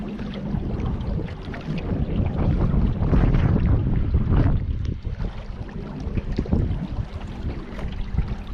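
Steady wind roars and buffets the microphone during a boat ride near Hoover Dam, a continuous loud rush with water-vehicle rumble beneath and no talking.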